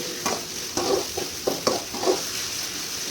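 Soya chunk biryani masala being stirred and fried in a pan, a soft sizzle beneath a series of scraping stirs, about five or six uneven strokes close by, no talking.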